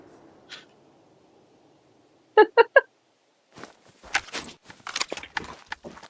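Pheasant calling in a hunting video game: a faint short call early, then three sharp, loud squawking notes in quick succession, followed by a burst of rustling and flapping-like noises.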